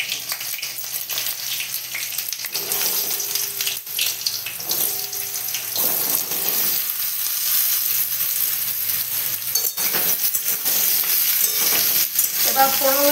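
Potatoes drop into hot oil with tempering spices and green chili and fry with a loud, steady, close sizzle, stirred now and then, for aloo posto.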